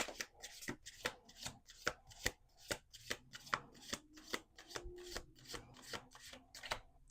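Playing cards being shuffled up close, a rapid series of crisp riffling snaps and flutters in quick bursts, quiet and without voices.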